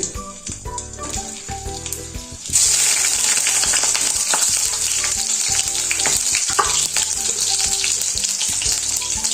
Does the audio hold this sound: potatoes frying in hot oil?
yes